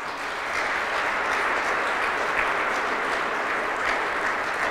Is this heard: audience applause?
yes